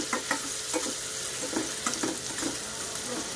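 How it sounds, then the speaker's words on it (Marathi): Finely chopped onion sautés in hot oil in a kadhai, giving a steady close sizzle broken by repeated stirring scrapes at a regular rhythm, with no talk. "एक छोट्या साईजचा कांदा कट करून घेतला आहे म्हणजे एकदम बारीक चिरून घेतला आहे आणि तो टाकून दिलेला आहे कांद्याला थोडंसं परतवून घ्यायचं"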